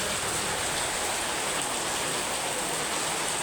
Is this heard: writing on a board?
no